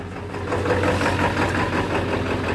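A just-started engine at a Startfest gathering runs at a steady idle, a continuous low rumble with a slightly uneven knocking pulse, close and loud throughout.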